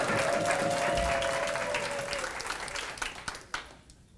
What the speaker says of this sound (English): Everyone give a loud cheer so they can see how full it is.